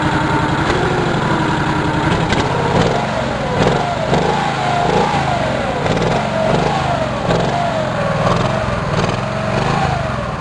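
A Cub Cadet 1650 four-wheel-drive garden tractor runs close by on a new muffler, its engine holding a steady, moderately loud idle with slight wavering revs throughout, no talk over it.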